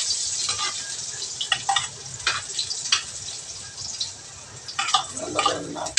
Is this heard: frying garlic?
yes